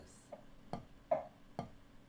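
Four soft, evenly spaced taps of a drumstick, gentle and close, with quiet pauses between each light strike.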